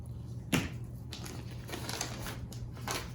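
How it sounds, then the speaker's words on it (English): Scissors make a single sharp snip through an elastic tail on a fabric bowl cover, close and brief, followed by faint rustling of the fabric. "now I have this little tail left on my elastic that I'm going to just snip off"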